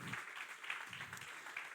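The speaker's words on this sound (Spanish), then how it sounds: "Dar un aplauso al Señor." A church congregation claps together during a sermon, a faint, steady patter of many hands carrying on for the whole stretch.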